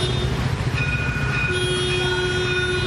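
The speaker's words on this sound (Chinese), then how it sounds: "车来车往，喇叭声狂响" A light rail train sounds its horn at a pedestrian blocking the track, a loud sustained tonal blare that holds steady and grows fuller partway through, close by over the rumble of the train.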